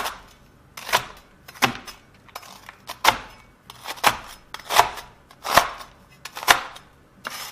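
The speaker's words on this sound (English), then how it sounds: "Once you're finished chopping it up, put it aside" A knife chops food on a board in eight sharp, evenly spaced strikes, close and crisp, with quiet gaps between them.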